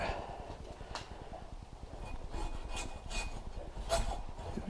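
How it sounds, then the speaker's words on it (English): Hand saw rasping through a fiberglass sledgehammer handle during a 10 lb sledge repair, a steady close scraping with brighter stroke bursts repeating about every second. "Be careful not to get into the fiberglass as much because might not be too good for the saw teeth"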